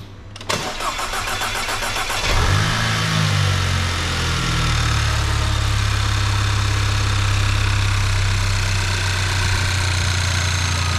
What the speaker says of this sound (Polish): jest to pierwsze odpalenie tego silnika po remoncie. Palimy, bez gazu.